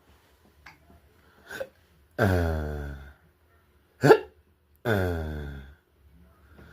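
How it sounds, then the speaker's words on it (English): A baby hiccups with several short, sharp voiced hiccups spaced a second or two apart, close to the microphone, with soft breaths and tiny sounds between them. "you got the hiccups? You got the hiccups?"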